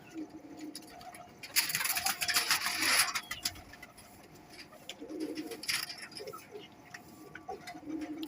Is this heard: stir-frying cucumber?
no